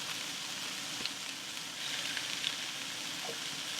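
Potatoes and mushrooms fry with salted butter in a pan, giving a faint, steady sizzling hiss with a few soft crackles and no talking.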